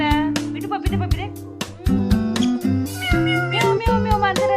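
Loud, close meows come in quick succession with drawn-out, wavering pitch, sounding like a voice imitating a cat, in a home with a pet parrot.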